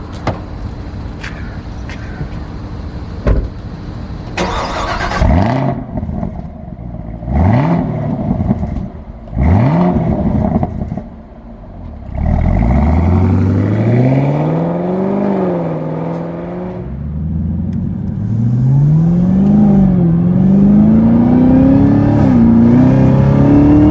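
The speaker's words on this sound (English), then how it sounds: "The engine roars and the supercharger just whines" A 2020 Chevrolet Camaro ZL1 accelerating hard, its supercharged engine roaring through repeated rising revs and gear changes, with a high supercharger whine climbing over a loud, close exhaust note.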